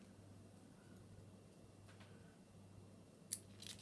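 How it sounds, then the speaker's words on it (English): Scissors snip the tag ends off fishing line while tying a beginner's pulley rig, a couple of sharp close clicks near the end after quiet fiddling with the line. "snip off your tag ends,"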